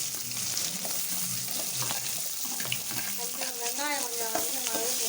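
Steady loud sizzling of chopped shallots frying in a pan for a crab gravy, with occasional stirring clinks and a voice speaking briefly in Tamil under the hiss.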